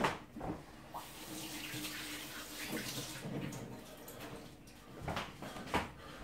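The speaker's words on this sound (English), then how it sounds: "let me wash my hands" Hands are washed under a running tap while preparing a pig head, water streaming steadily with splashy bursts as the hands move beneath it, fairly close and with no talk.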